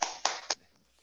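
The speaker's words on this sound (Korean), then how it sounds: "박수로 시작을 알리죠" Three sharp, quick hand claps, close and evenly spaced, opening an online cryptography colloquium; the final clap fades into quiet.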